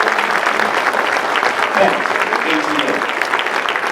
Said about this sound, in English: Big round of applause for Tim McBride.